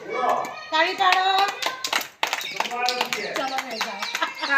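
Young aanganwadi children clap their hands in scattered, uneven bursts, close by, while a teacher's voice and children's chatter run over and between the claps throughout.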